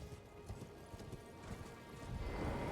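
Horse hooves in Elden Ring: a rapid, steady clip-clop of galloping hoofbeats over an outdoor ambience, growing a little louder toward the end.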